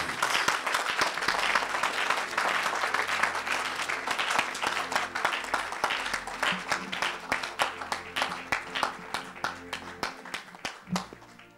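A church congregation claps in sustained, dense applause with voices mixed in, the clapping settling into a steadier rhythmic beat toward the end.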